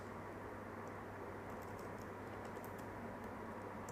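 Soft keystrokes on a computer keyboard during Linux command-line work, a few faint, irregular clicks over a steady low hum.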